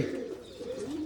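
Pigeons coo in soft, low, rolling bursts at close range, a steady murmuring run of calls over a short stretch, young birds being raised in a loft.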